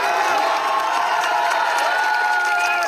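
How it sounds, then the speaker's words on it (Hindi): A large crowd at a Bihar election rally in East Champaran cheers loudly, a dense roar of shouting and whooping voices with some clapping mixed in, sustained and close throughout. "अब जकरा जकरा ये बुझाई ताली बजा सकेला"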